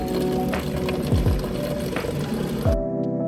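Water pours from a pedal-operated reverse osmosis water station in a hotel, a close, steady gushing stream with a pump hum beneath it that cuts off abruptly near the end.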